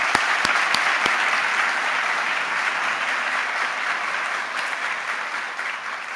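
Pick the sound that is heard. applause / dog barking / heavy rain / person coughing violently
applause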